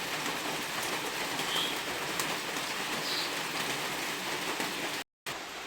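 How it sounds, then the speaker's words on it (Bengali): Steady rain falls on a house, a dense continuous patter of drops close by with occasional brighter drips, briefly cutting out near the end. "টপ টপ টপ টপ করে শব্দ হচ্ছে। এখানে বৃষ্টি পড়ে"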